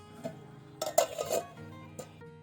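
A lid goes onto a cooking pot holding five potatoes in a village kitchen, giving a short burst of metallic clinks and clatter between quiet, faint kitchen sounds.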